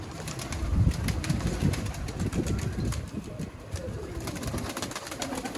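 Pigeons coo repeatedly during a flying show of young kabootar-bazi birds in Haripur Hazara, a steady low murmur with occasional wing flutters and faint outdoor noise, no talk.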